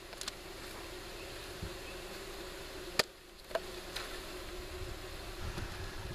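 Thousands of package honey bees shaken into the bottom of a wooden hive box hum in a low, steady, faint drone, with a few brief knocks and taps over it.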